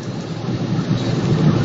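A car drives along a worn road, keeping its tyres out of the rutted grooves. Steady, loud rolling and road noise fills the whole stretch, with a broadband rumble and no voices.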